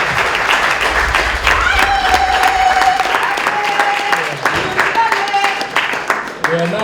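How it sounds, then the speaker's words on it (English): Loud, dense applause from an audience at a book launch event, continuous clapping mixed with crowd noise and some tonal whistles or cheers, with voices audible in the room throughout. "So let us give him a round of applause once again"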